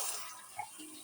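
Tap water running steadily over okra being rinsed in a sink, a soft continuous splash with a slight bump midway, brief and moderately quiet.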